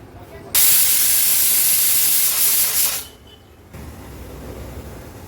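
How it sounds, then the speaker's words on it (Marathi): A pressure cooker vents steam during cooking of soya chunks. A loud, close hiss bursts out for about two and a half seconds, then drops to a faint background murmur. "तर चला मग कुकरच्या 3 शिट्ट्या काढून घेऊया."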